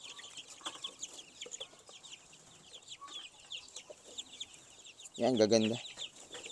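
Chickens cluck and chirp continuously on a poultry farm where young birds are raised for sale, with a louder, closer burst of clucking near the end and someone talking briefly over the flock.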